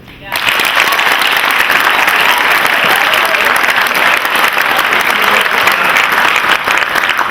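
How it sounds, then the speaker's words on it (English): After a brief quiet moment, an audience at a college oratorical contest breaks into loud applause for the communication faculty, thick steady clapping continuing to the end with faint voices underneath. "And a big round of applause for the communication faculty"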